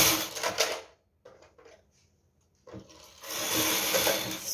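A knitting machine carriage is pushed across the needle bed while knitting rows of baby booties, making a rapid clattering rasp in two bursts with a quiet pause between them.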